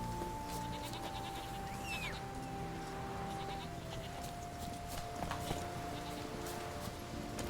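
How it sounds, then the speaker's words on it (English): Sheep in the video game Witcher 3 bleat several times over a layer of game ambience and music, the calls short and wavering at moderate distance. "Out of the way, sheep."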